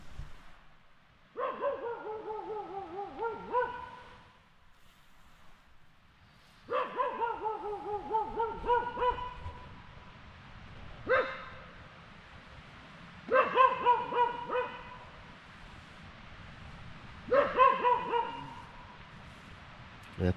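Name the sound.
dog barking outside at night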